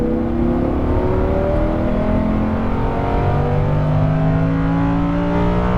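A Lamborghini Huracan LP610-4 engine pulls hard under throttle, its loud, smooth roar rising steadily in pitch with layered harmonics and a whirring undertone, with no break for several seconds.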